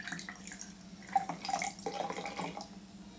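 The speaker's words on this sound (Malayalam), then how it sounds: "എന്നിട്ട് ഗ്ലാസ്സിലേക്ക് ഒഴിക്കുക." Liquor is poured from a bottle into a glass, giving a splashing, trickling flow with a few brighter drips and glassy tinkles over about three seconds, close up, with no talking.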